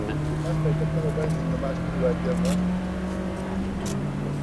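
Lada 2101 Gruppe 2 rally car engine running steadily at moderate revs with a low droning note, faint stutter as it runs lean, mixed with a voice talking over it.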